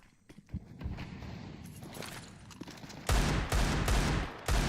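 Counter-Strike SMG gunfire in a professional match: faint clattering and footsteps at first, then loud rapid bursts of fire dominating the last second and a half.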